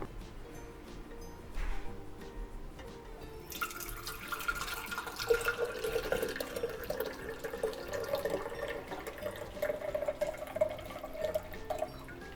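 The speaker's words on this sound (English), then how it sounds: "we are gonna pour our beet paint out" Beet paint pours steadily into a container, a continuous splashing trickle that starts partway through and rises slightly in pitch as it fills.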